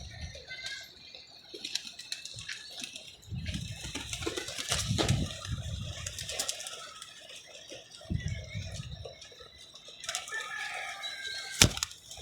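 A pigeon caught in a net flaps its wings in repeated bursts of rustling and fluttering, fairly close, with faint background sounds and a sharp knock near the end.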